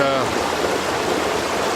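A creek flows outdoors, its water making a continuous rushing, babbling wash that is fairly close and steady, with faint talk now and then.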